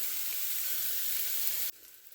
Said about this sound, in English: the onions are starting to brown up a little bit